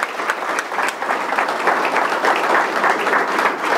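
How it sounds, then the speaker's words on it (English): A State of the City audience breaks into steady, dense applause, loud and sustained for several seconds with no pause. "So another applause."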